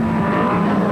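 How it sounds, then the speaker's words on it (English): A 1968 Brabham BT26 Formula One car, driven by Piers Courage for Frank Williams, roars past in a loud, steady engine drone with a strong low tone, continuous across the moment with no talk. "You're experiencing Frank Williams' first Formula One car, driven to second in the 1968 Monaco and USA Grand Prix by Piers Courage"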